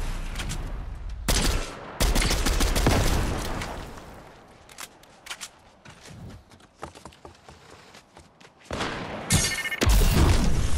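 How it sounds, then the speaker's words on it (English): Gunfire in the video game Fortnite during a Zero Build match: loud bursts of rapid shots, with a quieter patch of scattered distant cracks in the middle before heavy firing returns. "They shooting at each other?"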